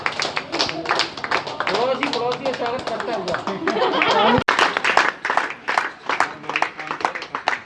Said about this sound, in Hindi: एक बार तालियां हो जाए जोर से।